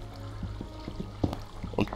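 Water runs steadily in the Minecraft video game, a continuous trickling pour with small splashy bursts rising here and there at moderate volume, heard alone.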